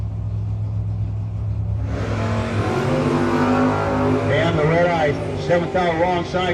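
A Chevy Nova and a third-generation Camaro launch at a no-box drag racing event, a deep engine rumble swelling into a roaring acceleration, heard beneath continuous announcer commentary.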